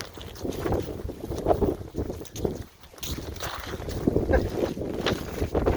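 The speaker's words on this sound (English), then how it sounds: "That's how windy it is." Gusty wind buffets the microphone in uneven rumbling bursts, dropping briefly quiet before picking up again; no talking.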